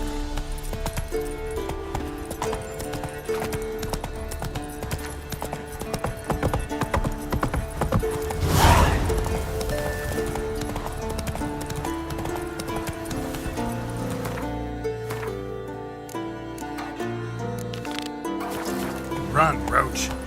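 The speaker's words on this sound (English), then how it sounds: "Run, Roach" A horse gallops in The Witcher video game, its clip-clop hoofbeats running steadily through the whole stretch beneath layered game music and sound.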